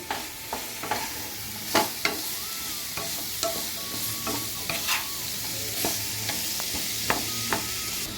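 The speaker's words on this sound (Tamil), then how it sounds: "நான் இது ஒரு அஞ்சு நிமிஷம் மூடி போட்டு நல்லா வதங்கட்டும்" Snake gourd sautéing in a pan for a Tamil-style thuvaiyal, giving a steady soft sizzle with repeated sharp clicks of a spoon stirring against the pan, close and alone without speech.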